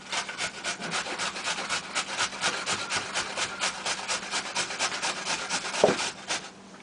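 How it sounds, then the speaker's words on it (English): Celery stalks being grated by hand for a raw salad, a steady rhythmic rasping with repeated close strokes throughout and one louder scrape near the end. "if you want, you can also grate celery as well"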